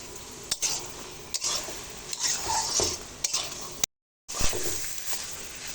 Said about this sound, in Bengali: এভাবে অনবরত নাড়তে হবে তা নাহলে নিচ থেকে লেগে যেতে পারে